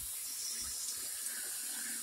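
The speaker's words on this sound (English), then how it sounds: "looks like the angle stop is letting water through" Water hisses and trickles through a leaking plumbing angle stop valve in a bathroom under construction, a steady faint rushing flow heard up close with no speech.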